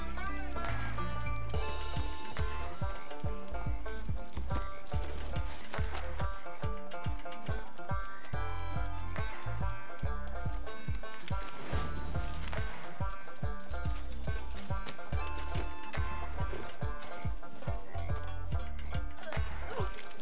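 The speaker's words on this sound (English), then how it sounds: "This is where she goes running off with the horse." A horse gallops in Red Dead Redemption 2, its hooves keeping up a steady, rapid clip-clop rhythm that runs the whole time beneath loud, busy music and game sound, with occasional talking mixed in.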